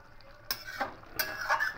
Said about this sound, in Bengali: খুব ভালো করে নাড়াচাড়া করে নিয়েছি